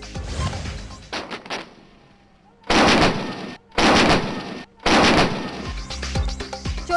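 Artillery guns and modern cannons firing during an annual Pakistan Army artillery exercise in Cholistan, with three loud, sustained blasts separated by brief gaps, plus sharper scattered cracks at the start and end.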